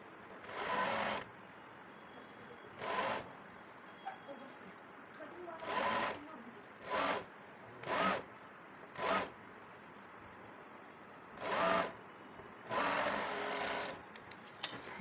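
A sewing machine runs a line of stitching to attach a strip around the round neckline of an Anarkali dress, in about ten short buzzing bursts of uneven length over a steady low hum, with no one speaking.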